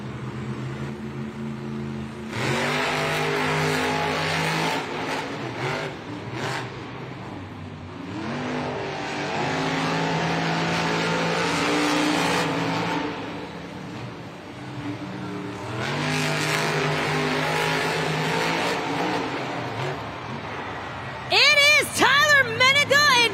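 Monster trucks race at a Monster Jam stadium event, Grave Digger among them, with loud engine roars surging and fading in long waves over crowd noise and an announcer's voice.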